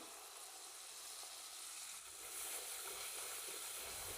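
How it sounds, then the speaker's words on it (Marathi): Homemade spices, including turmeric, fry gently in warm oil over a very low flame for mutton sukka, a faint, even hiss of sizzling that holds steady and swells slightly partway through, with no voices. "हे मसाले आपल्याला कोमट तेलातच फ्राय करून घ्यायचे आहेत"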